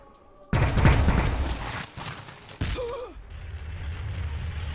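Units open fire in the strategy game Warhammer 40,000: Battlesector, Adepta Sororitas squads unleashing a sudden loud volley of gunfire that crackles on, followed by a mechanical whine and a lower rumbling tail.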